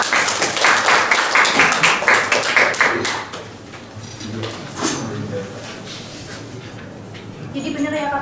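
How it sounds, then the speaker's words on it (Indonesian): Classroom applause for a student presenter during a microteaching session, a burst of brisk, close clapping from a small group that fades after about three seconds, followed by quieter room sounds, shuffling and a voice speaking. "Ya, tepuk tangan buat Mas Rido."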